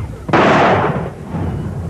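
A single heavy artillery shell blast in a war setting, a sudden loud boom that rolls and fades over about a second and a half, close and alone.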